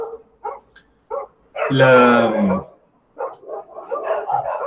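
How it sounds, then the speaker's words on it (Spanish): Several dogs barking, a loud close bark and yelp burst with shorter yips before and after, mixed with a person talking in Spanish. "Tengo algarabía aquí de perros."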